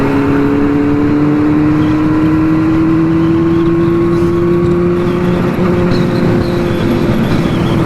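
A Benelli 600i motorcycle engine cruises on a highway with a loud, steady droning hum and a smoothly rising pitch, buried in constant wind rush.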